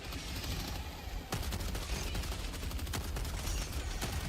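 Rapid incendiary breaker shotgun fire in HellDivers 2 blasts in a dense, continuous volley with crackling bursts, loud and close, filling the whole stretch.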